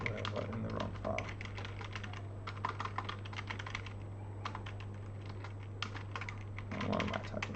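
Close, rapid typing on a computer keyboard while programming a sliding puzzle game in Zig, clusters of key clicks clattering over a steady low electrical hum.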